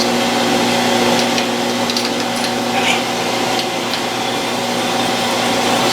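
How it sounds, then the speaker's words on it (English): Quarter-inch drill boring all the way through a piece of aluminum on a lathe, a steady, close mechanical whir with a constant hum and light cutting noise that holds level throughout. "drill 1/4 inch all the way through on this piece anyway"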